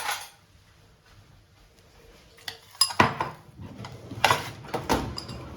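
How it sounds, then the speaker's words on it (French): Seeds toasting in a pan are stirred with a utensil, producing scattered sharp metallic clinks and scrapes that grow more frequent after a quiet start, with no talking. "Maintenant, je remue bien."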